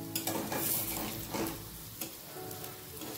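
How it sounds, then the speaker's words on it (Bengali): Lentil fritters sizzle in oil in a wok, with several soft clinks and scrapes of a utensil as they are turned, close and moderately quiet. "এবার আস্তে আস্তে বড়াগুলোকে উল্টে দেব"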